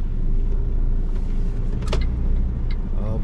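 A C+E tractor-trailer truck pulls away and drives on at night in the Netherlands: a loud, steady, low engine rumble heard from the cab with a few faint clicks and rattles.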